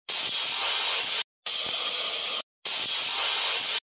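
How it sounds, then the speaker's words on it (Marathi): A pressure cooker boiling potatoes on a gas stove lets out three sharp, loud bursts of hissing steam from its whistle, each lasting just over a second and separated by brief silences. "3 शिट्ट्या झाल्याच्या नंतर मग आपण गॅस बंद करूया।"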